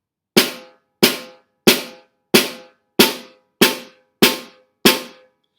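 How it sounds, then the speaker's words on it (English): Eight sharp, evenly spaced drum strokes, four with the right hand followed by four with the left, each a crisp isolated hit ringing briefly, played alone at a steady moderate tempo. "Then the last one is 4 right hands and 4 left hands."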